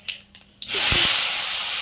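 Sliced onions dropped into hot oil already spiced with cumin seeds and a dried red chili set off a sudden loud, sustained hiss and sizzle. A few soft clinks and taps come before it, close and unaccompanied by voices.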